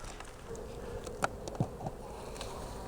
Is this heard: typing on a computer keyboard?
no